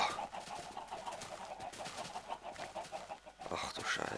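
Chickens cluck in a quiet, busy flock in a video game, with overlapping soft clucks and short calls continuing throughout.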